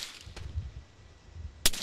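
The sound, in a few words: gunshots in Arma 3 video game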